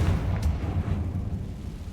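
The Confringo spell in Hogwarts Legacy sets off a deep, rumbling explosion with a sharp crack at the start that fades into a low, sustained roar. No voices are heard.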